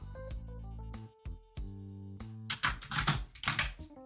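A comment is typed on a computer keyboard, the key clicks coming in quick uneven bursts in the second half, after a stretch of steady electronic tones.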